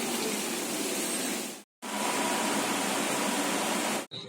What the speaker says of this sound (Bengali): দাদাভাই ওর বাটিতে জল দিচ্ছে।